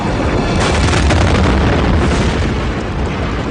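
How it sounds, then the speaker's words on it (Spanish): A simulated asteroid impact explosion roars as a loud, continuous, dense rumble that fills the whole stretch without pause, with no voices present. "chocará con la energía de una explosión nuclear de 5 megatones"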